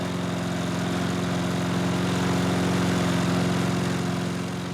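A Honda HRX lawn mower engine runs steadily at close range, a loud continuous droning hum with a fixed pitch that swells slightly and then eases, with no voices over it.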